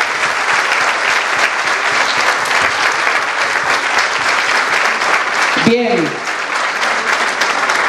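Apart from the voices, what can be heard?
audience applause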